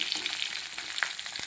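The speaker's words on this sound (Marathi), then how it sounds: "तर आता आपण हिला परतून घेऊया" Stuffed green chillies sauté in an iron pan, a close, steady crackling sizzle with a few sharper pops, no voices.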